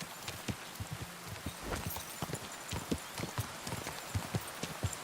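Horse hooves gallop in Kingdom Come Deliverance 2, a steady run of close, distinct clip-clop beats carried over a faint rustling background throughout.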